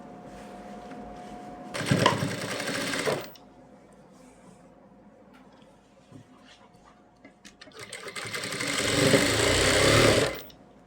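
A sewing machine stitches salwar fabric in two bursts, a short loud run of rapid whirring followed by a quieter pause with small handling noises, then a longer run that builds up before stopping.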